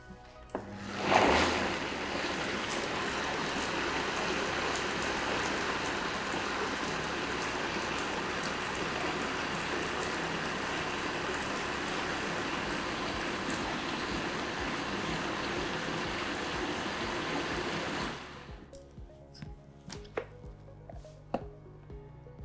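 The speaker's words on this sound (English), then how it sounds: "Now blend it well in a blender." An electric blender runs continuously for about seventeen seconds, whirring through pumpkin and ginger muffin batter with vanilla, after a sharp click at the start; it then stops, leaving scattered kitchen clatter and knocks.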